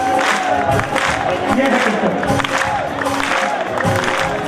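Audience at a devotional bhajan performance claps and cheers, a dense roar of applause mixed with crowd noise while a voice speaks over it.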